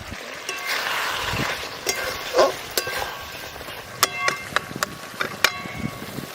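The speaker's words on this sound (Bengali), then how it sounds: "এবার ভেজে রাখা মাছগুলো দিয়ে দেবো।" Fried fish goes into a simmering curry of boiled eggplant and tomato as a Santali grandma cooks; a soft, steady sizzle runs beneath scattered sharp clinks and scrapes of a utensil against the pot.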